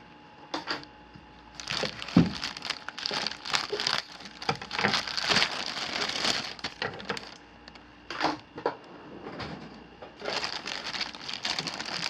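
The plastic wrapping of a new Yihua 946A-III LCD screen separator crinkles and crackles up close in bursts of handling, with brief pauses between rustles and no talking.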